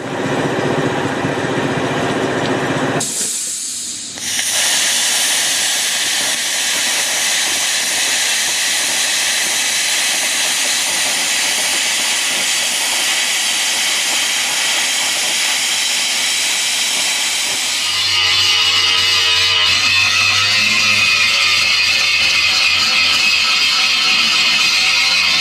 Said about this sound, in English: going to clean up a section for the earth of the plasma cutter and then give it a whirl.